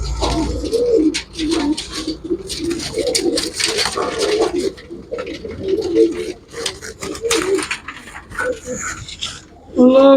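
Pigeons being handled and checked at a bird sale coo in low, repeated bursts with wing and handling rustles, close by, while people talk throughout.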